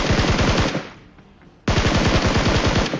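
Rapid automatic gunfire in the PUBG Mobile video game at Georgopol, loud and close, with a sustained burst, a brief pause of about a second, then another dense burst to the end.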